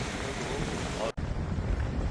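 Strong wind buffeting the microphone at sea among high waves near a kayak, a loud continuous roar with a brief sharp dropout midway, then slightly quieter gusty noise.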